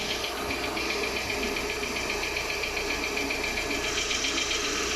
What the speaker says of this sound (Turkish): Şu an aracımız çalışıyor.